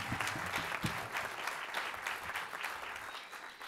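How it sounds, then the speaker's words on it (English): A concert audience applauds a featured trombone player at an instrumental music concert, a fairly faint, even patter of many hands clapping with some louder nearby claps early on, gradually thinning toward the end. "Give him a round of applause."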